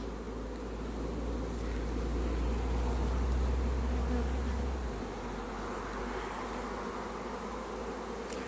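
A large honeybee swarm buzzes steadily and loudly up close, a dense continuous drone with a heavy low rumble in the first five seconds that then eases slightly.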